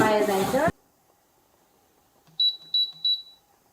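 An air fryer gives three short, high electronic beeps in quick succession as it is set for potato wedges, close and clear after a brief spoken moment and silence.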